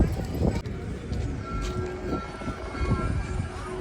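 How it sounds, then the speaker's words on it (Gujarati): A train rumbling past nearby with rhythmic clacking over rails and a faint whine, while people talk faintly in the background. "જો ટ્રેન હતો ને આપણે ટ્રેન જતા રહી"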